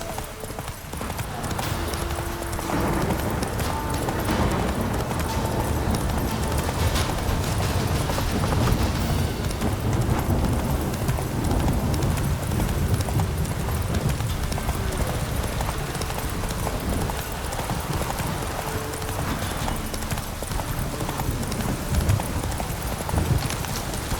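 Roach the horse galloping in The Witcher, a steady rapid run of hoofbeats at close range with a faint whinny, continuing under a busy game soundscape.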